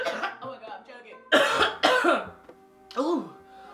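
A person coughs several times in quick, harsh bursts, close and loud, mixed with voiced throat sounds and brief vocal murmurs.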